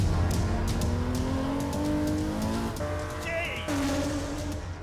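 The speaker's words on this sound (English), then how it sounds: "The 5-litre 12-cylinder engine produces 621 horsepower" A high-revving 5-litre V12 car engine producing 621 horsepower accelerates hard, pitch climbing through gear changes with a brief whine, loud and close, with no talking.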